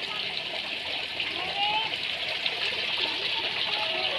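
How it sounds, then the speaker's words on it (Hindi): Steady water pours and splashes as plants are watered in a hospital garden in Pithoragarh, a continuous moderate hiss of flowing water with no breaks. "पौधों को दे रही है पानी"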